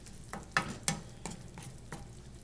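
Shrimp sizzle in a pan with cheesy spring onion pesto as a utensil stirs and scrapes, giving several sharp clicks over a soft steady frying hiss, close with no speech.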